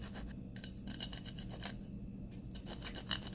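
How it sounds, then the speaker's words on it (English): Nutmeg rubbed against a grater for buttery squash buns makes a quiet, continuous rasping scrape in quick repeated strokes, close up and faint, with no talking. "Grate in your nutmeg like so."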